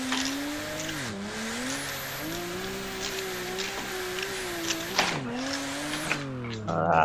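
A race car in a racing video game on a bumpy track revs high, drops pitch with each gear shift and squeals its tires through a handbrake slide, engine loud and continuous with no talking.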